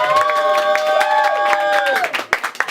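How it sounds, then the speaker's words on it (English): A pub audience breaks into a round of applause, with rapid clapping under loud cheering and shouted voices, fading toward the end. "can you give a round of applause now?"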